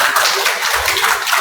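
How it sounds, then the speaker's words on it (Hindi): Students in a Sanskrit exam-preparation class clap their hands together, a dense, steady patter of many close hands filling the short moment with no talking. "चलिए बजाइए ताली"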